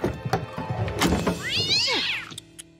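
A cartoon cat gives a loud, drawn-out rising and falling meow after some thumps and clatter, close and clear, in an action-packed Peter Rabbit adventure scene.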